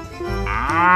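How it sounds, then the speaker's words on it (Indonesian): A toy animal plays a recorded cow moo, one drawn-out low bellow that rises in strength toward the end, clear and close with no talking. "Tuh ada hewan sapi mo."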